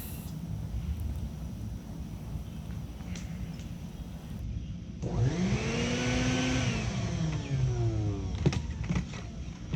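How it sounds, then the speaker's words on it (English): A Craftsman 5-gallon bucket shop vacuum, used for vacuuming up bees, whirs up to speed midway, its motor whine rising and settling into a steady, loud hum after a quieter stretch of background noise. "I've got my Craftsman 5 gallon bucket vacuum here that I use for vacuuming up bees"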